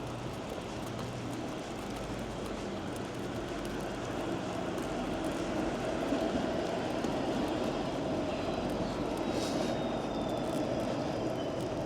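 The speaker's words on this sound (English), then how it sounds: "There's the streetcar." A streetcar rumbles steadily past at a distance on a rainy evening, a continuous low roar with faint high whine over city night ambience.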